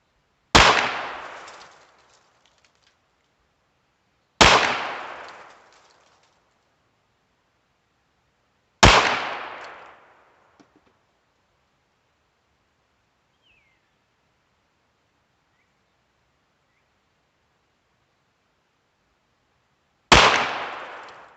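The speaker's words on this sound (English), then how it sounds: "we'll take our first 6 shots with the auto match" Four sharp, loud gunshots from a Ruger Wrangler birdshead revolver firing Aguila auto match ammo, each a crisp crack with a short decaying ring, spaced several seconds apart with a long quiet gap before the last shot.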